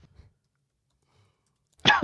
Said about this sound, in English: There's that cough.